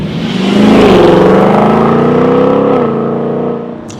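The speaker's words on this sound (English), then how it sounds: "Big V8 up front, which produces nice grunt" A Ford Mustang's front-mounted V8, rear-wheel drive, revs up loud and close, climbing through a rising growl and holding a steady roar before the throttle eases off near the end.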